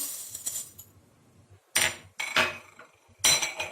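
A pestle strikes hard into a mortar as a head of garlic is crushed with a spoonful of salt, giving three loud, sharp pounding impacts with quieter scraping between them.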